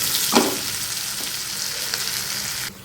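Bitter gourd curry mixed with red chilli powder fries in a pan, giving a steady, close sizzle with a faint stir scrape near the start, and no one speaking.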